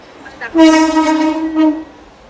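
A train horn blares close by in one long harmonic blast with a brief second swell, followed by fading rumble.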